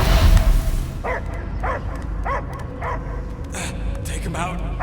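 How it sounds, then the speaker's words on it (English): Dog barks in the Guardians of the Galaxy video game: a series of six or so evenly spaced, mid-pitched barks over a steady low game-ambience rumble. "I hear only barking."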